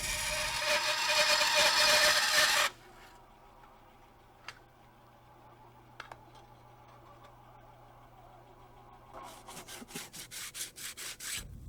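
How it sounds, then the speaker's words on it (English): A saw cuts through a tube for a Rotorway 162F helicopter safety spacer, a loud steady rasp for about two and a half seconds that then stops, leaving a quiet hum, a few ticks and a later run of rhythmic rubbing. "Turn on the saw and slide the tube along the board."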